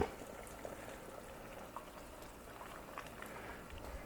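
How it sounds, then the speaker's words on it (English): Water at a rolling boil in a pot on the stove, a faint steady bubbling hiss with small pops scattered throughout as nectarines are eased in. "Now with our water at a nice rolling boil, we want to do a couple of things."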